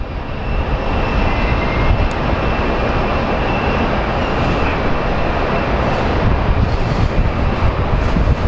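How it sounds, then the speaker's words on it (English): A passenger plane arriving from Santa Barbara lands at Phoenix Sky Harbor airport, its engines making a loud, continuous broadband roar that stays steady throughout, with no voices. "after our plane from Santa Barbara lands."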